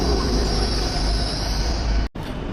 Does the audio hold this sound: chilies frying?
no